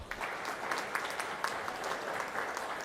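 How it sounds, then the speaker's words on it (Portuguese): Applause rises from the audience at a civic honorary citizenship ceremony, a steady, moderately distant wash of many hands clapping with no voices over it. "Uma salva de palmas."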